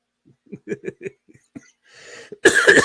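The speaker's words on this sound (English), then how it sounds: "So I have the cough too." A person coughs, a short series of soft throat sounds followed by a breathy exhale and one louder, harsher cough at the end, close and alone.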